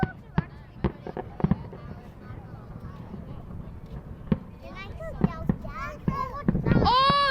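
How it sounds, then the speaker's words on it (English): Fireworks bursting over an Australia Day celebration in Perth, a series of sharp booms and crackles at irregular intervals with whistling streaks near the end, under steady crowd noise and voices. "I can see fireworks."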